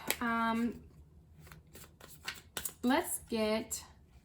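Tarot cards are shuffled by hand for a reading: several quick, papery riffles and bursts of card noise come close up, mixed with a voice making sounds between them.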